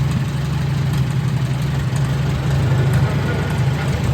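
A Farmall Super A tractor engine runs at a steady, rough idle, a loud, close low chugging with a constant throb and no talk over it.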